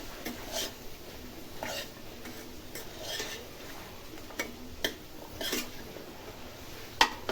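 A spoon stirs peas and cauliflower with salt in a pan, giving scattered metallic clinks and scrapes against the pan at irregular intervals over a quiet background.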